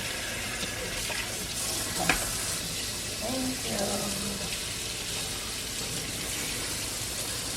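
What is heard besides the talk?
water running from kitchen tap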